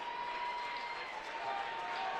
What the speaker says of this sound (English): Crowd starting to feel it here in Glenwood.